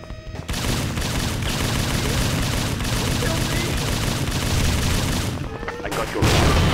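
Gunfire in the retro Tactical Ops shooter: loud, continuous rapid weapon shots and bursts rattling nonstop for several seconds, with brief voices mixed in.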